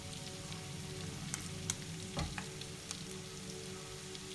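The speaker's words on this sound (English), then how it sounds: "Now we add in the rest of the vegetables that I have already prepared. Carrots, garlic, and leeks." Carrots, garlic and leeks fry in a pan with a continuous close sizzle, broken by a few light clicks and one dull knock as the vegetables are moved.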